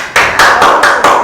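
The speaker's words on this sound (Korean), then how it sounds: "박수 쳐야지." Students in a classroom clapping, a short burst of loud, dense handclaps with steady broadband rhythm, close and without talk.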